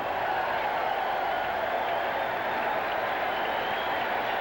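A big night crowd at Shea Stadium roars steadily as the wave circles the stands, a continuous broad wash of cheering and clapping with no break.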